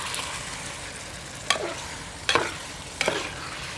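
Karela gosht, a bitter gourd and mutton curry in gravy, sizzles softly in oil while a spoon scrapes through it in three distinct stirring strokes.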